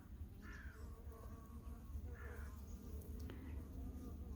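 Wasps buzz faintly outdoors after a storm, brief droning passes that swell and fade a few times over a low, quiet background rumble.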